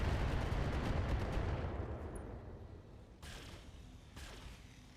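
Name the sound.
machine gun fire from mechs in video game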